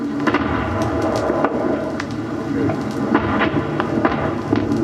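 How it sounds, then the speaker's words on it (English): Mortar rounds explode at night during the Vietnam War, giving a continuous rumbling barrage with repeated dull thuds and crackling bursts at varying distances. "If you have lived through a mortar attack"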